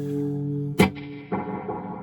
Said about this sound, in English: then you turn the reverb back up.